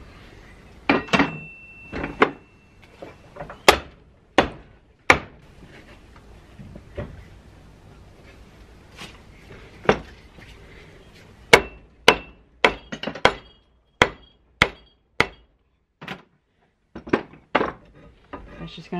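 A hammer strikes a stuck nut on an antique line-shaft arbor at a workbench, sharp metallic blows in irregular bursts, loud and close, with clinks of loose items rattling and a voice talking between strikes.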